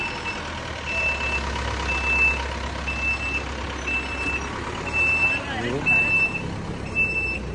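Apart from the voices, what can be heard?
1954 Dodge Power truck at classic car parade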